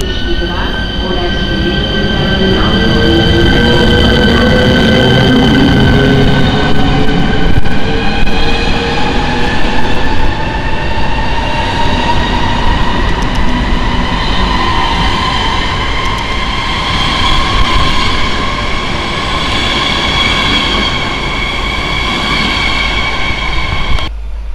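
Train at Púchov railway station rolls through with rumbling wheels, rising and falling squealing tones and steady clatter, heard close and loud for its whole length alongside station announcements.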